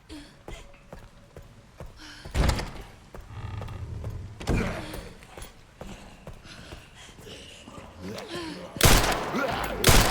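Gunshots fired in the video game Resident Evil Requiem: three sharp, loud bursts spaced several seconds apart over quiet in-game ambience and small movement sounds.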